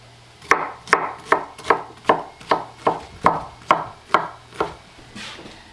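A knife slices vegetables into slices for roasting, about eleven crisp, evenly spaced chops on a board, close and loud with a quiet hum underneath, and no talking.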